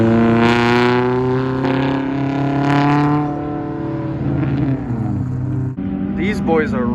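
A Nissan 350Z Nismo race car on the Streets of Willow track, its engine note strong and harmonic at close range, rising and settling through gear changes, with talking heard over it.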